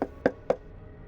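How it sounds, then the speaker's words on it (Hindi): Three crisp knocks on a gate at night, evenly spaced and close, each a short sharp rap fading quickly into quiet. "और गेट खटखटाया।"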